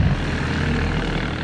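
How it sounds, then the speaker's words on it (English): RAF bomber aircraft engines droning in a steady, loud, continuous propeller roar with no breaks or rises, heard alone without voices. "the RAF send 12 bombers to attack the German ships anchored in the mouth of the River Elbe"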